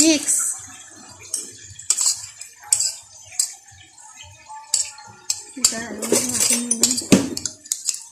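Cucumber salad with mayonnaise is mixed in a bowl, giving repeated sharp clinks and scrapes of a utensil against the dish in an uneven rhythm, close and fairly loud, with a voice briefly heard near the end.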